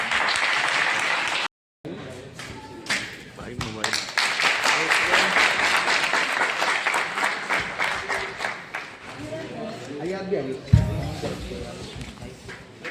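A crowd at a community association gathering claps in bursts, the applause rising and falling with brief gaps, plus scattered handling noises nearby.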